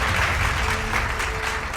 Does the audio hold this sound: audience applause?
yes